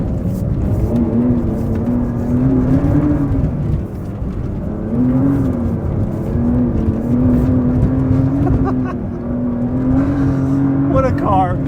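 Engine of a Porsche 911 Dakar while driving, a steady loud drone inside the cabin with the pitch rising and falling slightly as speed changes.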